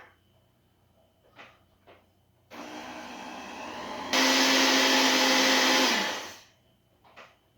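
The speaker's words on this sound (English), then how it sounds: "That needs to be blended more" A blender whirs loudly for a few seconds, stepping up to a higher, harsher speed before cutting out, with faint clicks before and after.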